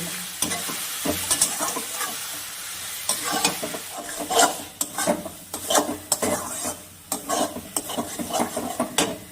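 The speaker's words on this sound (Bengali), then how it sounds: "এবার ভালো করে মশলাটা কষিয়ে নেব।" A spice paste with ground tomato is fried and stirred in a pan, the utensil scraping and clinking repeatedly in uneven bursts over a soft, constant sizzle, close and clear.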